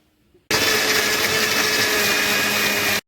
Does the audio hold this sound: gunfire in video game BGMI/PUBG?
no